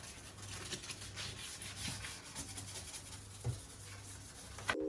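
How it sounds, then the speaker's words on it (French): A stovetop is scrubbed clean with water, soft close rhythmic rubbing strokes repeating in a slow even pattern, faint and intimate, with no voices. "je vais vous laisser avec un ASMR pour nettoyer sa plaque"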